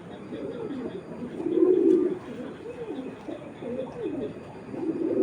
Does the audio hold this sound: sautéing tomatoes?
no